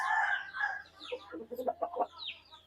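A hen sitting with her chicks gives a short run of soft clucks and murmuring calls, close by and fairly quiet, with a low steady hum underneath.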